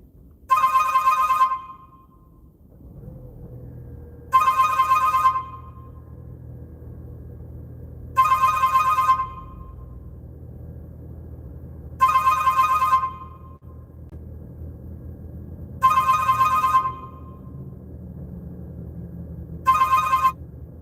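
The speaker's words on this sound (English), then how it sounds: "I have a phone call coming in." A phone rings for an incoming call, six bright electronic ringtone bursts at steady intervals of about four seconds, fairly loud over a low room rumble with no talking.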